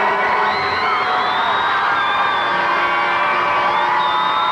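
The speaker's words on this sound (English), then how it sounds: "their faithful fans still cheering on their team" Crowd of fans at a 1989 Minnesota Class AA high school boys soccer final cheering and whooping steadily, a dense wash of voices with shouts rising above it throughout, loud and continuous.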